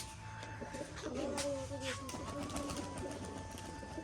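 Pigeons coo in a low, warbling murmur from about one to two and a half seconds, set against a steady background hum in a pigeon loft where a cock bird is displaying.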